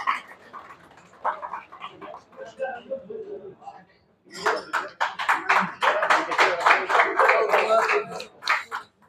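A crowd claps in a long, dense burst at a pigeon-flying tournament prize distribution, starting after a stretch of quieter voices and noise and swelling loudly through the second half.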